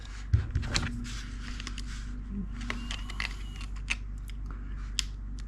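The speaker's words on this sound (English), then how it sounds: "All we're going to do is just cut it with the scissors." Scissors snip away excess vinyl decal material from an RC car body, an ARRMA Fireteam, in a quiet indoor setting, giving a series of sharp, close, irregular clicks and cuts with no talking.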